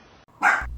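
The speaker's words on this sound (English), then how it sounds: "That's my dog." A single sharp dog bark rings out close and loud, followed by a low steady hum, with no talking.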